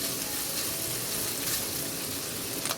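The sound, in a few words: bacon and cabbage frying in a pan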